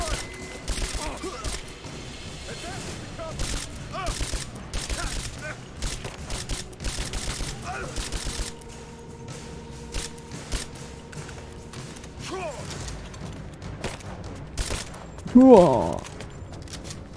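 Gunshots in a shooter video game on Xbox One X come as scattered sharp pops and short bursts over a long stretch, mostly under a talking voice, with a louder cluster near the end.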